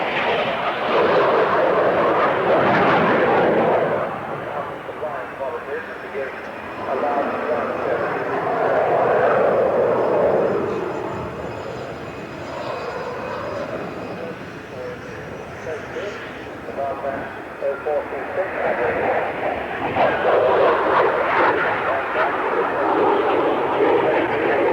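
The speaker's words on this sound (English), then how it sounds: "The Alpha Jet." A Dassault-Breguet/Dornier Alpha Jet trainer flies past at the Farnborough air show, its jet engine roar swelling, fading and returning across the pass while a commentator talks over it.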